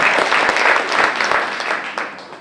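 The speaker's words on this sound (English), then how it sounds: "another round of applause," Loud applause from an audience, a thick wash of clapping that stays strong before tapering off toward the end.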